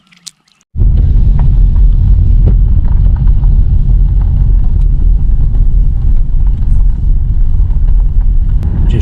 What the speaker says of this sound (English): Just driving through the woods in the middle of the night